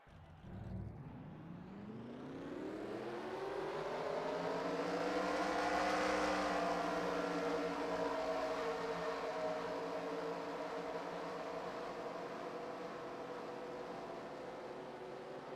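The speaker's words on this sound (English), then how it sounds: "Cars rolling out on the racetrack for their one pace lap around here." Race car engines in a NASCAR racing video game at Talladega rev up together and then settle into a sustained rising drone as the field rolls onto the track, with no talk.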